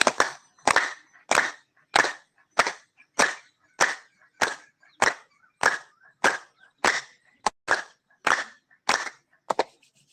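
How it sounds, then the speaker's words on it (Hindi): A group practising yoga claps in a steady, even rhythm, with about fifteen crisp, sharp hand claps repeating at regular intervals in a quiet setting, with no talking. "लोग बजा लेते हैं ताली।"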